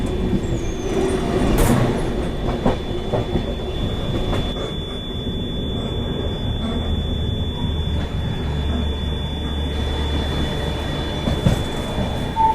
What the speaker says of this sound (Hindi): सिकंदराबाद दुरंतो एक्सप्रेस, भाई ये भी अभी प्लेटफॉर्म पे लगने जा रही है।